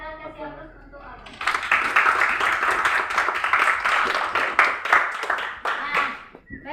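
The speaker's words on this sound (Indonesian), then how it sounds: "Silakan kasih aplaus untuk Aldo" Classroom applause for a student named Aldo after a lesson on zikr, many hands clapping steadily for about five seconds and fading out at the end, with a brief voice beforehand.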